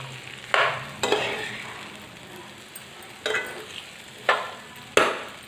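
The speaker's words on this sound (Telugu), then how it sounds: "బెండకాయలు వేసుకున్న తర్వాత ఇలా కలుపుకోవాలి, లేదంటే అడుగు మాడిపోతుంది" Okra (ladies fingers) fries in a pan under a steady soft sizzle, while a spoon stirs it in five or six distinct scraping strokes spaced about a second apart, each one loud and close.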